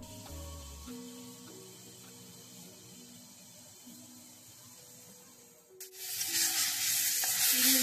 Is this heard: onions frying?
yes